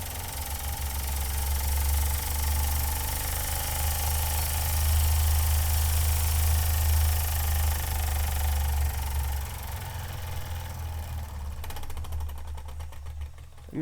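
An Empire No.62 Long Boiler model steam engine runs close by with a steady low chuffing hum and fast mechanical rattle, easing off toward the end.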